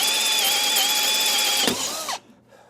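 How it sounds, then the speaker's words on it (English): A high-pitched whining drill bit runs steadily and loudly through metal for about two seconds, then spins down abruptly and stops, leaving quiet. "I'm going to drill this one out here first."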